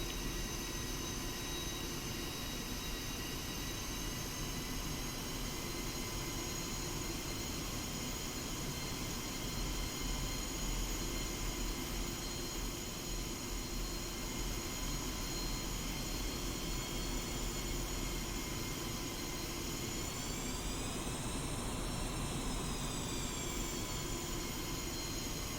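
A jet aircraft taxis toward the runway in the flight sim DCS World, giving off a steady, loud engine whine and rumble that holds throughout with no voices.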